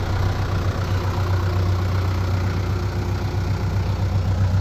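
A 1994 Mitsubishi Canter fire truck idles after a cold start, giving a steady, loud, low engine drone that holds even throughout with no revving.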